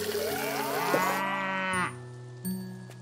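A cow in the farming game Doraemon Story of Seasons lets out one long, loud, close moo lasting nearly two seconds, set over steady background game music.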